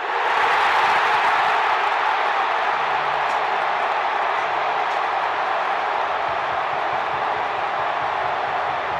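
A baseball stadium crowd roars steadily for a Freddie Freeman home run, a loud, sustained wash of cheering and applause that barely varies throughout.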